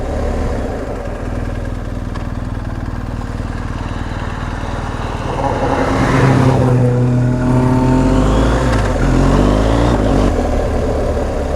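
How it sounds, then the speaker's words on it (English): A Subaru rally car passes on a rural road in Wales, heard from a BMW R1250 GS motorbike. Steady motorbike engine and wind noise fill the first half, then the car approaches loudly with rising, sweeping engine note and passes close by. "Here's another rally car."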